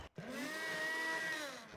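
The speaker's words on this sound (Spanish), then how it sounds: "Podemos usar una licuadora." A kitchen blender whirs through lentils in a short pulse, starting after a brief gap and holding a steady, faint, high motor whine before easing off.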